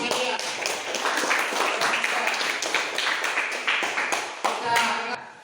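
Applause from students in a classroom, a dense patter of many hands clapping steadily for several seconds at close range, with some voices mixed in.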